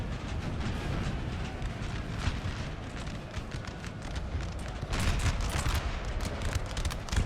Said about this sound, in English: Nice hit from the artillery there.